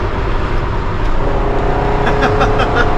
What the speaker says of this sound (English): that exhaust just really makes it sound like you're flying